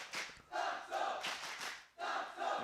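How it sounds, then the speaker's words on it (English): An esports arena crowd chants and cheers in swelling waves for the team Gentlemates, a loud, massed roar with brief dips between surges. "The crowd digging deep now to get behind Gentlemates."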